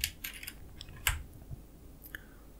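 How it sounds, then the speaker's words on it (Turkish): Keys tap on a Redragon K568R Dark Avenger rainbow mechanical keyboard with red switches, which is said to have a ringing noise. The clicks are quiet, close and irregular, with a sharper clack about a second in. "Klavyede çınlama sesi var."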